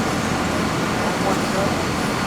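An RC race car runs on a track at an RCHRA race, a dense, continuous broadband roar with steady motor noise filling the whole stretch at a loud, even level, with voices underneath.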